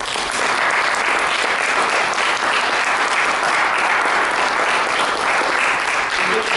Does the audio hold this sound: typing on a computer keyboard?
no